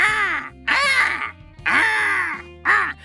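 A jet black crow screams in four loud, harsh caws, each stretched and wavering, close by and alone with no talk.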